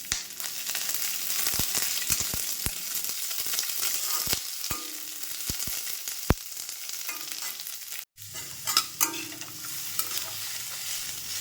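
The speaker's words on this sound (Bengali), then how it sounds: "এবার কাঁচা পেঁয়াজটা আমি দিয়ে দিলাম" Raw onions hit hot oil spiced with whole dried red chillies, black peppercorns and bay leaf for chicken lal jhal, frying with a steady loud sizzle broken by sharp scraping stirs and a brief drop near the end.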